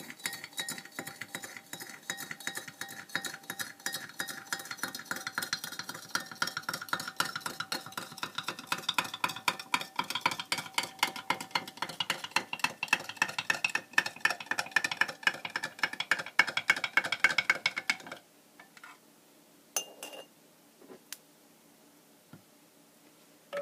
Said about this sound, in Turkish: ve karıştırıyoruz